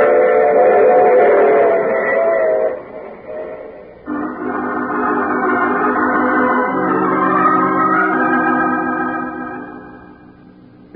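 A steam train whistle and chugging departure in a radio drama, with a long sustained whistle blast followed by a lower, steady rumbling tone that fades out slowly.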